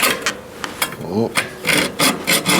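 Hand saw trimming a part on a Trek 950 mountain bike: short, rhythmic rasping strokes near and fairly loud, with a brief voiced murmur in between.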